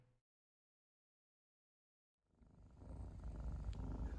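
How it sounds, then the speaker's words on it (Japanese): A young Maine Coon kitten about 75 days old purrs close to the microphone, a low rumbling drone that starts after two seconds of silence and grows steadily louder. "ゴロゴロ。 どうしたのゴロゴロちゃん"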